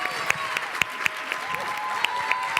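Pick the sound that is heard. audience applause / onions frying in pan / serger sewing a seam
audience applause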